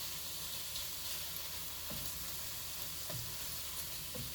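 Pieces of ahi tuna sizzling as they brown and caramelize in a hot pan, a steady close hiss of frying with occasional faint stirring taps, no talk.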